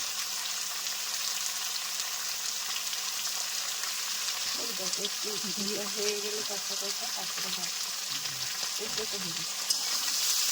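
Spices with turmeric and salt sizzle steadily in fish oil in a home kitchen, a constant bright frying hiss with occasional stirring scrapes and a faint voice in the background midway.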